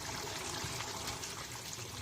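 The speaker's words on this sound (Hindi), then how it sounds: "इसमें थोड़ा सा पानी और ऐड कर दें ताकि कोफ्तों को जो है वो फूलने का मौका मिल जाए" Water poured into a simmering aloo kofta gravy makes a steady, continuous trickling hiss, close and even throughout.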